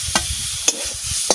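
Leafy greens (shak) fry in oil in a pan, giving a steady hiss punctuated by three sharp scraping stirs of a spatula, close and without talk.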